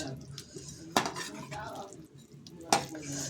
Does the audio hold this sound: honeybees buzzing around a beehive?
no